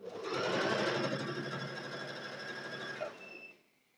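A sewing machine stitching baby quilt fabric, a fast continuous mechanical whirr running steadily for about three seconds before winding down and stopping.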